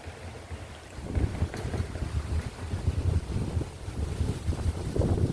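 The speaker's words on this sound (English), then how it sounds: "It is windy." Wind gusting outdoors beside a 2026 Toyota Sequoia Limited Hybrid, low rumbling buffeting on the microphone that swells after the first second and stays rough and constant.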